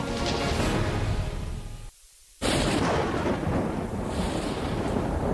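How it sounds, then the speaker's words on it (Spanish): Thunder from powerful lightning storms on Saturn, a loud, deep, sustained rumbling that briefly cuts out and then crashes back in with full force. "Los relámpagos atraviesan el cielo."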